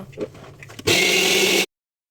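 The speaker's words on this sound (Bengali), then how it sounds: "এবার আমি গ্রাইন্ডারে আদা কুচি কয়েকটা কাঁচা লঙ্কা রসুনের কোয়া আর কেটে রাখা টমেটো দিয়ে পেস্ট বানিয়ে নেব" A mixer grinder whirs loud and steady for under a second while blending ginger, green chillies, garlic cloves and chopped tomato into a paste, then cuts off abruptly after some quiet kitchen sounds.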